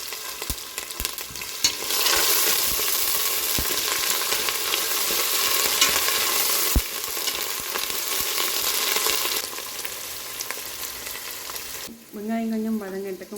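Onions sauté in a hot pan for a Seela fish curry, sizzling loudly and steadily with scattered stirring clicks near the start, then a brief stretch of talk at the end.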